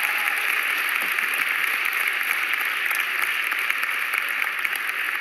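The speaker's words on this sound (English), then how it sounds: "Let's give a round of applause." Steady, dense applause from a crowd, sustained throughout with no break and no talking over it.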